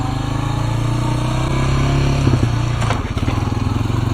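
A four-wheeler's small engine runs steadily and loud, then briefly dips and surges as it makes a hard shift into third gear near the end.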